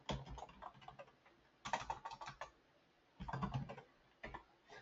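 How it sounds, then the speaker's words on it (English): Computer keyboard typing in bursts of rapid clicks, separated by short pauses, close and fairly quiet, while text is entered for an Outlook email signature. "I would type in consumer protection notice."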